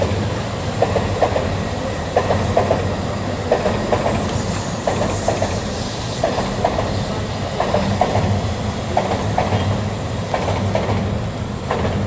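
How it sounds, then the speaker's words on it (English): A Shinkansen bullet train running through Tokyo at night, a loud continuous rumble with a regular clickety-clack of wheels over rail joints repeating about every second, heard close with no talking. "Shinkansen is moving over there."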